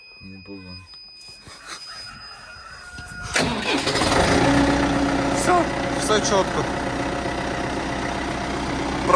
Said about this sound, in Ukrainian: Заводимо трактор. Холодний пуск.